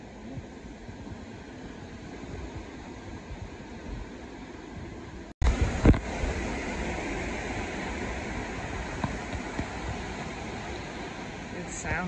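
Hurricane Delta's eyewall winds roar in a steady, dense broadband rush like surf crashing on a shore, jumping abruptly louder after a brief dropout midway and staying loud and continuous.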